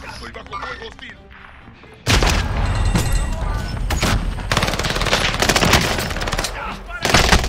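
After a quieter start, loud bursts of rapid gunfire and booming shots erupt in dense volleys from a video game, continuing with brief pauses.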